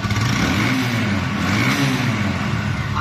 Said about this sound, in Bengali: এখন দেখো বাইকটির সাউন্ড